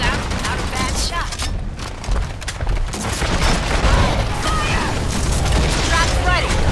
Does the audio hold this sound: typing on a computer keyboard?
no